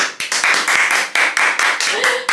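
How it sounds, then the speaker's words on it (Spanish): Close, brisk clapping from a few people at home in a Spanish family vlog about a weekly Mercadona shop, a rapid run of sharp, evenly spaced hand claps with a faint voice slipping in near the end. "¡Aplauso!"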